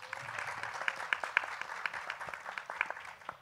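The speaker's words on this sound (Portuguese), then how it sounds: "Uma salva de palmas, por favor." An audience at a book event claps in a continuous, moderately loud patter with some individual sharper claps standing out, while a voice carries faintly beneath.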